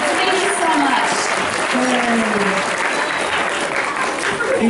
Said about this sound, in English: Another round of applause as they find their seats.